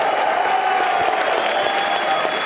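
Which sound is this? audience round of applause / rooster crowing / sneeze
audience round of applause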